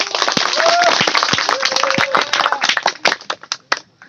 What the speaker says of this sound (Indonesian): Boleh beri aplaus yang meriah buat kita semua.